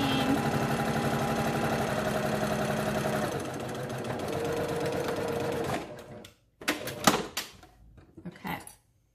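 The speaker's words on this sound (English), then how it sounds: "sew right along that bottom edge. Back stitch in the beginning" A sewing machine stitches steadily along the bottom edge of a child-sized fabric mask for several seconds, then halts, followed by a few sharp clicks and fabric rustles.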